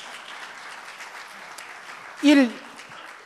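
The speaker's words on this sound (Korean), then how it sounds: "박수 한번 쳐주십시오." Steady audience applause at a lecture runs throughout, with one voice briefly speaking up over the clapping partway through.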